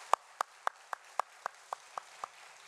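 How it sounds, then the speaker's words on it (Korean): A single person in a Korean church thanksgiving service gives nine slow, evenly spaced claps, sharp and moderately close, in an otherwise quiet hall. "큰 박수로 한번 건네주시기 바랍니다."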